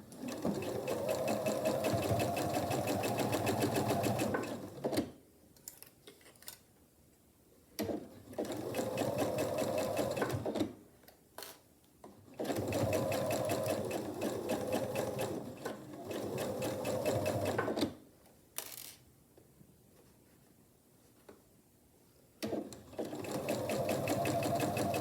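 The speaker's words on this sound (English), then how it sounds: "I'll take it to the machine, both of them, and I will sew a 1/4 inch seam allowance here and here." Sewing machine stitching a quarter-inch seam on a quilt block, running in several steady bursts separated by short pauses, close and loud with no talking.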